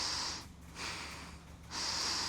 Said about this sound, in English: Breathe in only through your nose.